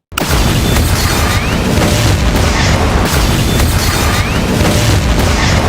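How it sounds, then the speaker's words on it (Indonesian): A car explodes in a film action scene, giving a loud, continuous roaring blast that fills the whole stretch without letup and with no talk. "Mobil yang Reddington sangka Alexander Kirk ada di dalamnya meledak"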